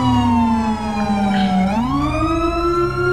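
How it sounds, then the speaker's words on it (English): A wailing police car siren from a modded driving video game, loud and continuous, its pitch dipping and then sweeping back up, heard alone with no talk. "That's the siren with the timer off."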